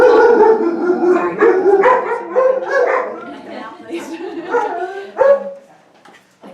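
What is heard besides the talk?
dogs barking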